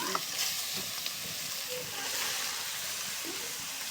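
Grated carrots fry in a pan with lentils, a steady bright sizzle and hiss with occasional scrapes of stirring, close and continuous.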